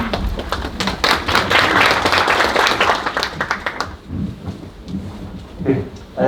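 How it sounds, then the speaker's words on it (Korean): Applause from a seminar audience welcoming a lecturer from the Daegu walking association at a public health association meeting, a dense wash of clapping that fades after a few seconds into quieter room sound and scattered claps. "큰 박수로 환영해 주시기 바랍니다"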